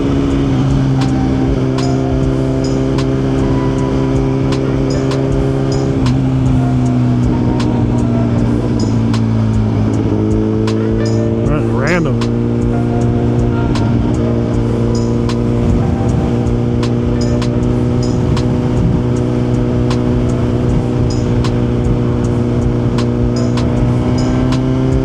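A liter-class motorcycle engine drones loudly and steadily while riding, its pitch dipping and climbing slightly with throttle changes, joined by constant wind rush.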